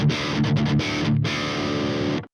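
A passive electric guitar runs straight into an amp with no preamp, played as a sustained run of notes that sound clear and full, loud and steady for about two seconds before cutting off.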